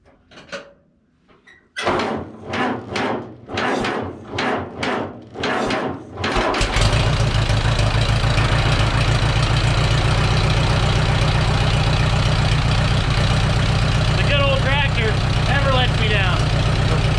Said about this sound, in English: Gonna get the fuel turned on, and there should be fuel in it, and see if we can't get it running.